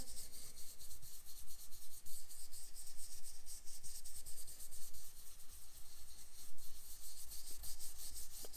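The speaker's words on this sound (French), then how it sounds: "On n'appuie pas sur sa brosse, on vient caresser le papier" A brush lightly rubs ink onto paper for a wintry fir-tree scrapbooking card, a steady, close, soft swishing and scratching that runs continuously with small pulses from each stroke.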